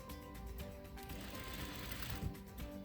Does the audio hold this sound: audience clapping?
no